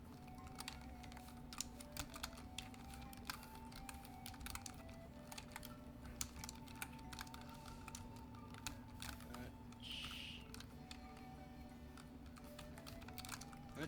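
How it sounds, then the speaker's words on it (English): Computer keyboard typing runs steadily throughout as rapid, irregular clicks over a constant low electrical hum, fairly quiet and close, with no voices. "So that's what all this typing is."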